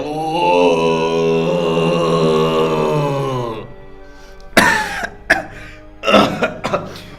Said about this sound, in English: Sorry, I've got a bit of a cough.